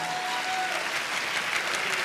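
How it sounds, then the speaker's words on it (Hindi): Dense, even applause from a seated audience at a business meeting hall, a continuous wash of many hands clapping at moderate distance with no break. "मैं चाहूंगा एक बार जोरदार तालियां।"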